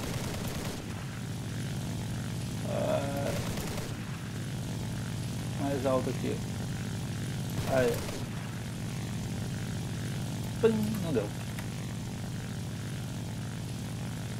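Steady propeller drone of an N1K Shiden Kai aircraft engine in the video game War Thunder, a constant low hum under intermittent speech.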